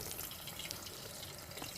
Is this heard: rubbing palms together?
no